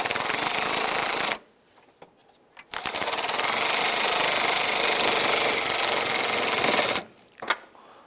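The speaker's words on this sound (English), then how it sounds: "And tighten down our lower nuts here." A power tool whirs in two sustained bursts while tightening the lower nuts on a 1995-2001 Ford washer reservoir bracket, loud and close, with a short gap between the runs and a brief blip at the end.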